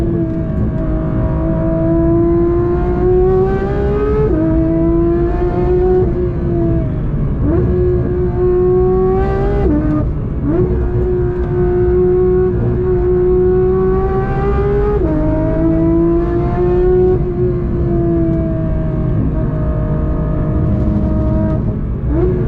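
Porsche 992 GT3 with a naturally aspirated flat-six engine, revving hard and loud from inside the car, climbing through the rev range in repeated rising sweeps with short dips between gear changes, heard alone.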